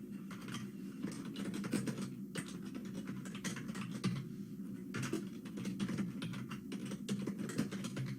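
Rapid, uneven clicking of keys on a computer keyboard, bursts of typing with short pauses between, close and fairly quiet.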